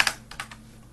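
A few quick keystrokes clack on a standard computer keyboard, close and crisp, starting with a louder pair of taps and then lighter presses that fade out within a second, with no talk.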